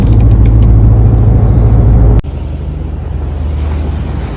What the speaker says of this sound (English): here we're just sailing out to the destination early morning